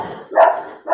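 A dog barks twice in quick succession, close and fairly loud, with short sharp yelps and no talking over them.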